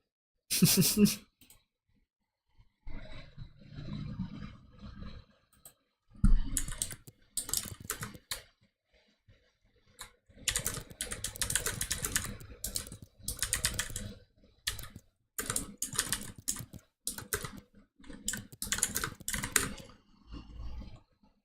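Typing on a computer keyboard during a late-night livestream: bursts of rapid clicky keystrokes at close range separated by short silences, with occasional breathing and no distinct speech.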